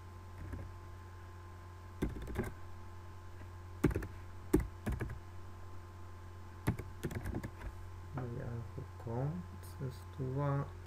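Fingers type a homepage address on a computer keyboard in short bursts of crisp key clicks, and a voice speaks briefly near the end.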